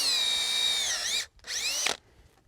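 A power drill whines loudly as it bores into a wood log for over a second, pauses briefly, then spins up again in a shorter burst, close by.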